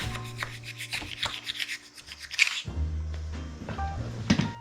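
Hard wax filling a repair in a wooden stair is smoothed with a wax iron, producing close, uneven rubbing and scraping strokes with short pauses and a brief louder scrape near the middle.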